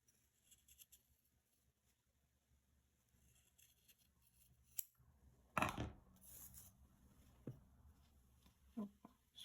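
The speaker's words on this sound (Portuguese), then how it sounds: "eu vou simplesmente cortar nessa linha que eu fiz com uma tesoura bem boa" Scissors snip through macramé cord on a rainbow keychain craft project, one sharp close cut standing out clearly, followed by faint handling rustles and small scraping sounds.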